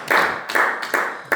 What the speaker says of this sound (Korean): 오늘 김정남 지사님 박수 한번